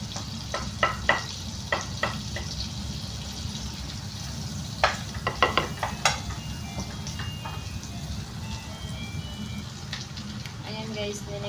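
Garlic fries in a pan for creamy lobster and crab with a steady, close sizzling hiss, punctuated by a handful of sharp spatters and utensil taps early and midway through.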